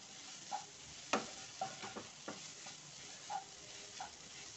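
A spoon stirs sugar syrup with a little orange colouring in a pan for Rajasthani moong dal halwa, making quiet, scattered taps and scrapes over a faint sizzle.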